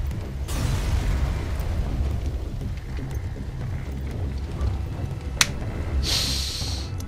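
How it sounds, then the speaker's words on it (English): A spaceship explodes in the game FTL: Faster Than Light, a low rumbling boom under a rushing hiss, with a sharp crack near the end followed by a bright burst of noise. "One last explosion marks your fate as your ship is torn apart."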